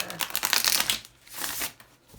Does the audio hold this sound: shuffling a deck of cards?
yes